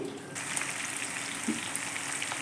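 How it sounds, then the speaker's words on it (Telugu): Green chillies fry in a pan for mirchi ka salan, giving a steady, close sizzle and crackle throughout with no voices. "మిర్చి అనేది ఇప్పుడు ఫ్రై చేసి తీసుకోవాలి"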